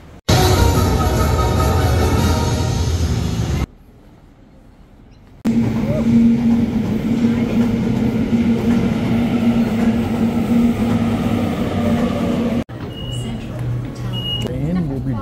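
A double-decker passenger train rumbles past a station in Sydney, loud and close with a steady rolling drone and faint squeal, broken by a brief quiet gap before the roar resumes; a voice speaks over parts of it.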